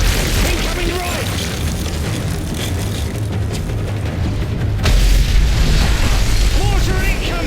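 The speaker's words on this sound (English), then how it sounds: "Mortar incoming!" Mortar shells explode in deep, rumbling booms during a Modern Warfare 3 firefight, loud and continuous under a busy battle soundscape with voices.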